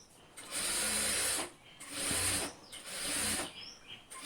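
A sewing machine stitches a narrow seam on a blouse, running in three close, steady bursts of about a second each with short pauses between them.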